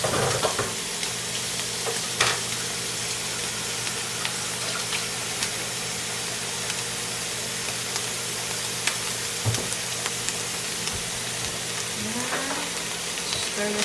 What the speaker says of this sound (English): Stir this around together for a few minutes.